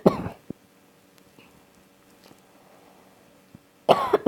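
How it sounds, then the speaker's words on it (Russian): Close, loud coughing from one person: a harsh burst at the start, near silence with faint clicks in between, then another rough cough at the end. "Самый кашель."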